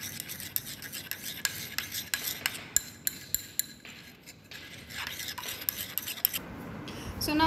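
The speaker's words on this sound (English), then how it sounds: "You have to mix it well so that the methyl salicylate gets dispersed evenly into all the" Iodine ointment mixed with methyl salicylate is stirred and scraped in a container, giving repeated soft rasping rubs with small sharp clicks of the utensil, quiet and close, with no talking.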